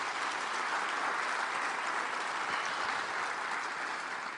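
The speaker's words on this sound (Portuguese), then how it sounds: "Dê para Jesus uma bem forte salva de palmas." Church congregation giving Jesus a strong round of applause, a dense steady roar of many clapping hands filling the room, loud and continuous from start to finish with no talk over it.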